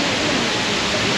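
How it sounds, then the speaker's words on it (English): La Fortuna waterfall in Costa Rica roars as a dense, steady broadband rush of falling water, loud and unbroken with no voices over it. "How is the waterfall?"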